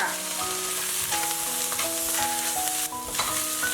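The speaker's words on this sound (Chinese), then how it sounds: "蒜末炒香" Minced garlic frying in hot oil with bean paste in a wok, a loud, dense, continuous sizzle close up with a few light stirring scrapes, over soft background music.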